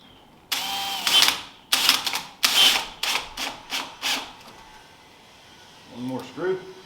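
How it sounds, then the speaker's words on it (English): Small Phillips screws are driven by hand into speaker mud ring brackets, with a series of close, loud rasping bursts that slow and fade, then someone speaks briefly at the end. "the brackets come with some small Phillips screws, so I'll just screw those in"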